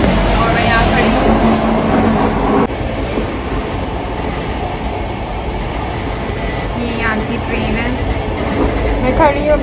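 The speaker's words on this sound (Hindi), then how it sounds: "अभी हम लोग हैं ट्रेन में" Steady rumble and rattle from inside a fast-moving train car in Europe, continuous and fairly loud, with brief squeals and someone talking over it now and then.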